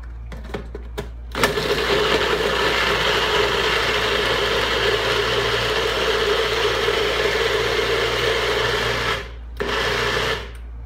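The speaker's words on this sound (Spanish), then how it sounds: "lo licúas con 250 mililitros de agua." A blender whirs steadily as it liquefies three or four lemons with 250 millilitres of water, a loud continuous motor drone running for most of the stretch, stopping briefly near the end before restarting.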